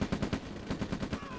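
Rapid bursts of small-arms fire from a sniper unit in the real-time strategy game OpenRA Red Alert, a quick rhythmic string of sharp close reports with no talking.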